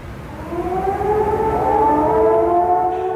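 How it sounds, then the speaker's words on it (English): Air raid sirens wail over Baghdad during the 2003 bombing, rising and falling civil defense tones that sound distant and echoing across the city, with no voices. "air raid sirens wailed over Baghdad"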